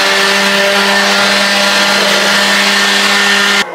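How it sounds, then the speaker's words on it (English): Gas leaf blower clearing mulch from a garden bed, a loud steady engine drone with strong harmonic hum holding constant throughout, then cutting off abruptly near the end. "we're gonna use the leaf blower to try and finish out this job"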